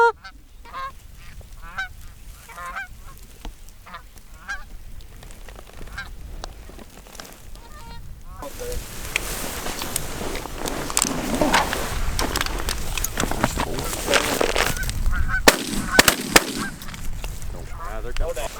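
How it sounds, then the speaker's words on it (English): A flock of geese honks on the approach to land during an early-season North Dakota goose hunt, the calls swelling from scattered distant honking to a loud, dense chorus overhead, with hunters talking briefly at the start. "Left side, geese coming."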